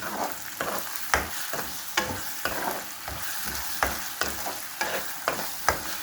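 Homemade sardines simmering in tomato sauce, stirred in a pan with a spoon: a steady soft sizzle with regular clinks and scrapes of the utensil against the pan, alone and fairly quiet.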